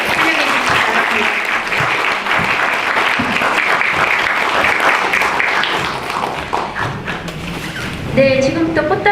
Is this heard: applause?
yes